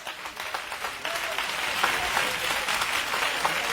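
A church congregation claps and cheers at a pastor's wedding consecration in Bassam, a steady, dense applause heard from a moderate distance that swells slightly after the first second.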